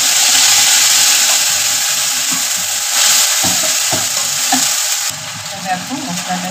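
Cumin, whole garam masala, bay leaf and ginger-chili paste sautéing loudly in a pan, a dense close sizzle with stirring knocks that eases to a quieter fry near the end.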